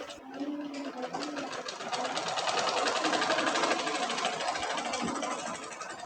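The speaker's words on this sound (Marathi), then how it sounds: "हे पहा आपली शिलाई कशी येते" A domestic sewing machine runs continuously for several seconds, a fast, even mechanical whir and patter at moderate distance with no pause.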